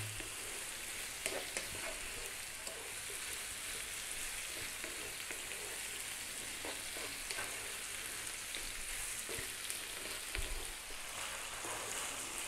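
Tomatoes and beef fry over medium heat in a pan, a constant soft crackling sizzle dotted with small pops, steady and fairly faint throughout, no talk.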